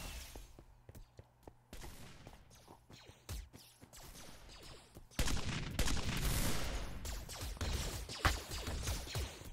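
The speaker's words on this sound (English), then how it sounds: "who's shooting at me?" Rapid gunfire in the Minecraft Hypixel Galaxy Wars game: sharp clicky shots, sparse at first, then a dense, louder barrage of overlapping shots.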